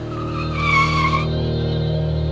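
A car skids to a stop in a dramatised road-accident crime drama, a loud tire squeal rising and then sliding into a sustained rough screech over a steady engine rumble, with no talking.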